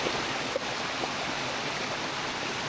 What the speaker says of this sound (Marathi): पाण्याचा प्रवाह बघा म्हणजे काय भारी वाटता वा आवाज बघा आला धबधबा